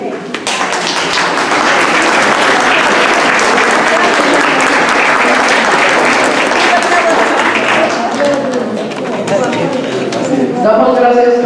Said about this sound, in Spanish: Fuerte aplauso también para ustedes